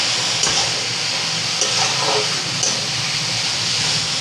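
Dried shrimp chutney with green chillies sizzles steadily in a pan while being stirred, a loud, even frying hiss with faint scraping touches throughout.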